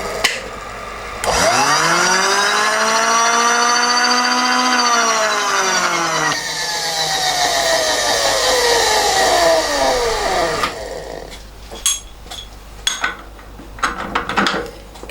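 A power tool cuts through hard metal of a jigsaw blade clamp, throwing sparks: a loud whining grind that rises and falls in pitch for about ten seconds, then stops and gives way to clatter and knocks.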